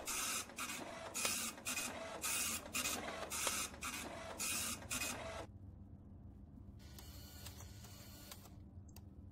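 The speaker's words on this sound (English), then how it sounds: "There's a printer!" An office printer runs in rapid rhythmic bursts of mechanical printing, then falls quiet before a fainter whir of paper handling near the end, with no talking.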